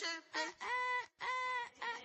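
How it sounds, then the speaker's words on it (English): Loud honking bird calls, goose- or duck-like, close by in a rapid series of five harsh nasal notes with brief gaps, alone with no other sound. "The birds are chirping."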